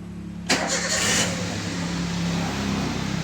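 A 2009 Toyota Avanza with an oxygen sensor fault cranks and fires up after a moment of quiet. The engine catches sharply, then settles into a steady, close idle.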